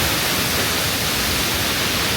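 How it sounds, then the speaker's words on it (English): Rain-swollen waterfalls pour down beside a road in Indonesia, giving a steady, dense roar of rushing water that stays even and unbroken throughout, with no voices over it. "waterfalls are coming from everywhere"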